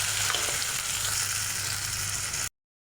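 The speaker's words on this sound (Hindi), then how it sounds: "अब हम इसको कम स्लो आंच पे छोड़ देंगे टमाटर सॉफ्ट होने तक" Tomatoes sizzling steadily in a pan over a low flame while softening for a dhaba-style moong dal tadka, a continuous close frying hiss with no voices, cutting off abruptly.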